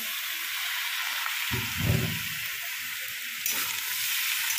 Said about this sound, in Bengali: এবার আমি এর মধ্যে দিয়ে দেবো ঝিঙেগুলো